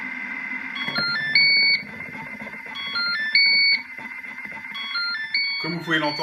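A Thermomix signals that hot chocolate cooked at 90 degrees is ready, sounding a series of clear electronic beeps and tones in a repeating pattern, loud and close in a kitchen.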